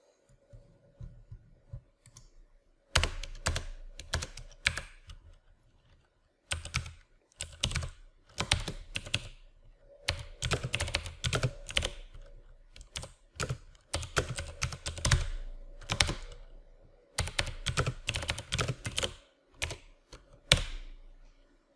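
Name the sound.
typing a formula on a computer keyboard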